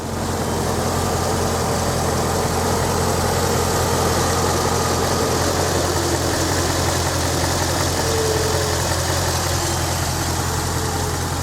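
Steady, close engine idle from a 2011 HSV Clubsport with a 6.2 litre LS3 V8, a continuous even rumble with no revving and no voices.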